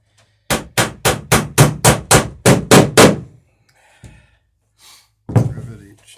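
Hammer blows setting rivets on an Alpha Beachcomber boat under construction, about ten sharp strikes in an even rhythm, followed by a short pause and a faint brief voice.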